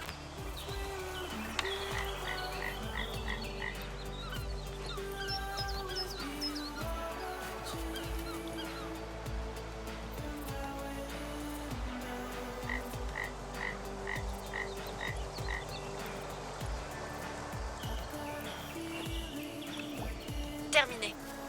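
Frogs croak loudly and repeatedly in a video game scene from Lost Records: Bloom & Rage, with rhythmic calls over background music. Chirpy bird-like notes are mixed in, and a person speaks at times.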